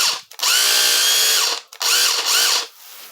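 Cordless power drill with a chipping function running in two bursts, a loud high-pitched motor whine that spins up, holds and winds down twice, close to the listener with no talking.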